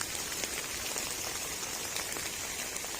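Steady rain pours on an organic farm during weeding, a dense continuous hiss of drops hitting plants and ground, evenly loud throughout with no voices.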